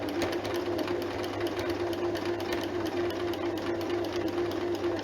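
A sewing machine steadily stitching jersey fabric for a top's sleeves and body, a close, continuous mechanical hum with a fast, even needle rhythm and no pauses.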